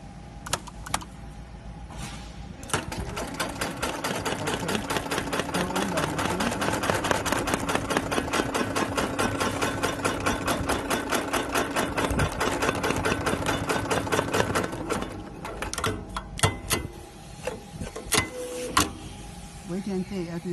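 An EA-733-3020 extra heavy duty industrial sewing machine runs in a rapid, steady mechanical rattle for about twelve seconds, then stops. Brief start and stop clunks bracket the run, and a voice talks before and after.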